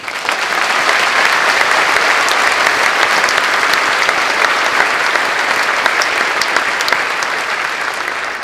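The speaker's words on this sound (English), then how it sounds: "Please join me in a round of applause to acknowledge families and all who have helped make this milestone" A large audience applauds at a Cohasset high school graduation, a loud, dense, sustained wash of clapping that holds steady for several seconds.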